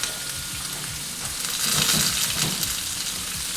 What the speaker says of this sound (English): we're searing that on both sides just to kind of lock in some flavor